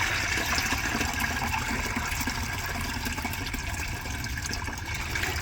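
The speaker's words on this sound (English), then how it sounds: "So I just pour it with this little colander." Fertilizer weed water poured from a bucket through a small colander outdoors, giving a steady, continuous splashing and trickling wash of liquid that stays close and fairly loud throughout with no talk.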